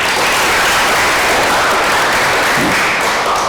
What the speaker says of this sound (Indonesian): kita beri aplaus kepada teman kita